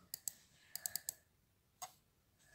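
Quick sharp computer mouse clicks, near and quiet, come in small clusters: two, then four in a fast run, then a single click, against a faint hushed background.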